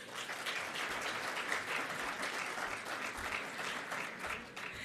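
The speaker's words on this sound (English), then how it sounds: "Can I kindly ask the audience to hold their applause until all the names are called out?" A large conference audience at an African hydrogen summit applauds steadily for named youth ambassadors, a dense, continuous wash of many hands clapping at moderate distance without a break.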